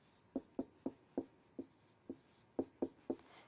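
A pen taps and scratches out a math problem by hand on a surface, making about ten short, distinct strokes in an uneven rhythm, close and quiet, with no talking.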